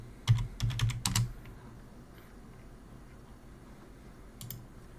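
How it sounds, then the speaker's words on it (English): A short burst of quick keystrokes on a computer keyboard, typing into a Windows search box, close and crisp for about a second, then quiet room tone with a couple of faint clicks near the end. "First thing you want to do is go into the search and type in computer management."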